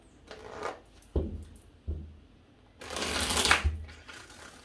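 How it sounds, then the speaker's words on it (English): Tarot cards shuffled close by in several short papery bursts, ending in a longer, louder riffle; no voices. "I'm going to give this 3 shuffles."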